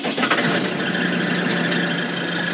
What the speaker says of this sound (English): let's go ahead and start up this tractor